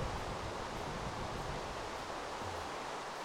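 Steady, even hiss of rain falling in Minecraft, a broad wash of noise with no breaks, continuous and moderately loud throughout.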